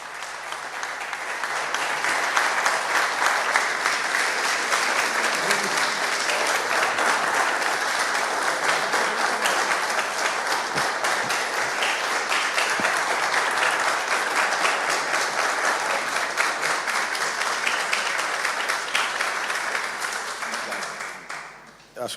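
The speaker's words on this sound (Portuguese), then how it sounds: "Acho que as palmas dizem tudo." Long, steady audience applause fills a hall at a legal forum in Lisbon after a talk, dense clapping that builds within the first couple of seconds and holds evenly before tapering off at the very end.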